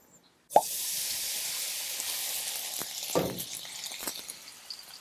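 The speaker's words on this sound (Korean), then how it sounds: "그리고 이제 이걸 프라이팬에다 올리시면 됩니다." Chive pancake batter, thick with plenty of chives, lands in a frying pan of hot oil with a sharp plop, breaking into a loud steady sizzle that carries on with a few small spits and a second soft plop.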